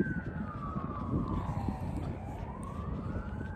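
An ambulance siren wails steadily in the distance, its pitch sliding slowly down and then back up over a low rumbling background, heard on its own without talk.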